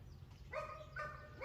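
A dog barks three times in quick succession, each bark fairly close and clear, over a low outdoor rumble during a break in the rain.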